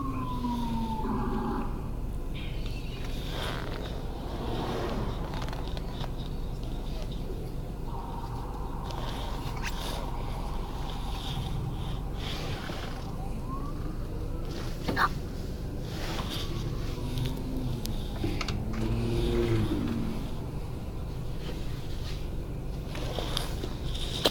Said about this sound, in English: A few minutes later, police car, sirens going, and this is not the only one